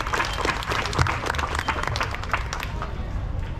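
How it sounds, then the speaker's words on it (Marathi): Loud applause from a crowd at a school science exhibition of farm tools made from waste materials, dense, steady clapping that fills the whole stretch, with voices mixed into the crowd noise. "एकदा जोरदार टाळ्या सगळ्यांच्या करता."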